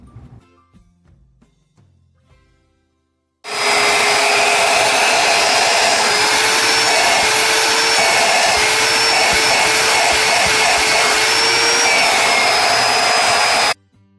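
An Oreck XL upright vacuum cleaner switches on abruptly after a few quiet knocks, then runs with a loud, steady whine and roar before cutting off.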